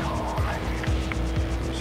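Race car tires squeal and skid in the Trackmania Turbo video game, with repeated short screeches over a steady engine drone at close range.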